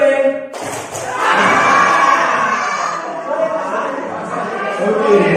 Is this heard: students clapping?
yes